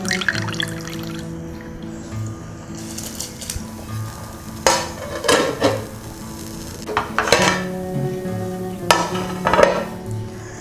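Basmati rice goes into a pot of boiling water for vegetable biryani, with a run of clattering, stirring bursts and pot knocks over a low steady bubbling. No one speaks.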